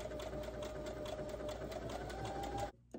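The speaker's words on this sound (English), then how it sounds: "you're going to sew that like it's a small curve" A sewing machine runs steadily for nearly three seconds, stitching fabric with a fast, even mechanical chatter, then stops abruptly, leaving near silence.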